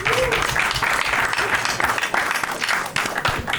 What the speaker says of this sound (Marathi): पुढच्या ॲक्टसाठी एकदा जोरदार टाळ्या फॉर शुभम सावंत